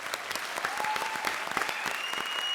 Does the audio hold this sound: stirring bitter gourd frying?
no